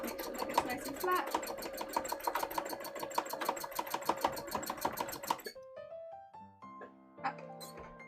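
A sewing machine stitches plushie fabric in a fast, steady run of loud mechanical rattling for about five seconds, then stops abruptly, leaving quieter tonal sounds behind.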